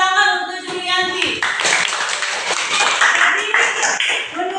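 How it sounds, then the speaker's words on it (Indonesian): Hands clap in a classroom, a burst of group applause following a teacher's voice, with talk continuing over the clapping. "terima kasih, tepuk tangan untuk Julianti."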